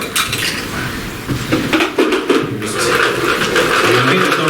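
Numbered balls clattering and rattling in a draw bowl for a hurling draw, a busy close jumble of hard knocks and clinks with a little talk around it.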